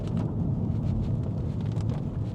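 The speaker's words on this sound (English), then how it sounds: "It will not stop raining." Steady, dense rain pours down without a break, a continuous broadband wash with a low rumbling undertone, loud and close throughout.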